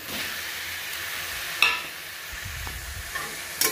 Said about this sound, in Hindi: तो चलिए दोस्तों अब इसमें हम डाल देते हैं आलू ओल जो भुने हुए हैं।